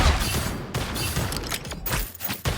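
Rapid sustained gunfire from the character Bucky in a video game, a loud burst of shots broken by a few short gaps, with no voices.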